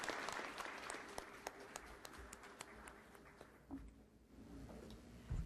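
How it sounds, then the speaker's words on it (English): Conference audience applauding Mayor Karen Bass, a faint, roomy wash of many hands clapping at a distance, thinning out toward the end. "please give a big round of applause to Mayor Karen Bass"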